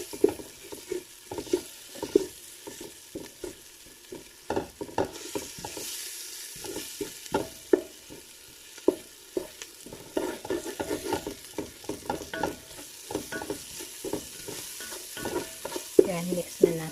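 Garlic paste being stirred in a pan for Arabic Bukhari rice with chicken, with repeated scraping strokes of the spoon over a light sizzle, close and steady with no talking.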